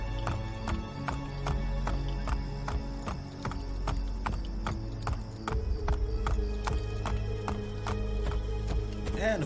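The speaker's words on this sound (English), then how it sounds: "And horses in the city now." Horse hooves clip-clop steadily through the city streets of Renaissance Italy in Assassin's Creed Brotherhood, regular knocking strikes layered over busy game ambience and a low drone, with voices murmuring in the background.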